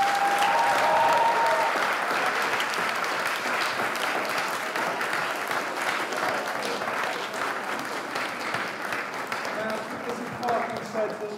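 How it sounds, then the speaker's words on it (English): Audience clapping steadily after a junior school play, a dense, sustained round of applause from a crowd in a hall, with faint voices briefly audible early on. "Let's give you a massive round of applause."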